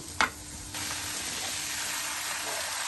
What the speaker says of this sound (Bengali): পুঁই শাক ঢেলে দিচ্ছি।